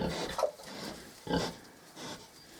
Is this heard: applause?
no